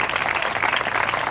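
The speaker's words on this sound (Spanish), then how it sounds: "Dele un fuerte aplauso al Cristo de la gloria hoy." A church congregation applauds, bursting into loud, dense clapping from many hands that fills the whole brief moment without pause.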